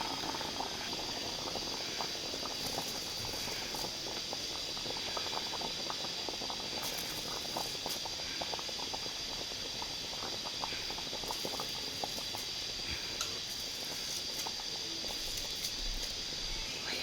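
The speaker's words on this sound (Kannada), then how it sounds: "ಚೆನ್ನಾಗಿ ಪೀಸು ಎಲ್ಲ ಬೆಂದಿದೆ, ಕುದೀತಾ ಇದೆ." Mutton stock at a rolling boil in a pot for Srinagar donne biryani, a steady close bubbling and gurgling with scattered pops and light rattles, continuous and without talk.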